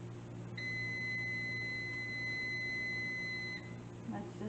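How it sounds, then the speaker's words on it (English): A microwave timer beeps in a home kitchen: one steady electronic tone held for about three seconds, clear over a low background hum, then a brief clatter. "That's just the timer from the microwave."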